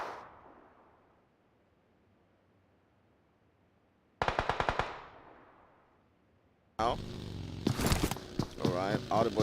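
Gunfire rings out in a Clash of Clans game match: a fading shot tail, then a sudden rapid burst of sharp repeated shots, followed by someone commentating over more loud gameplay noise.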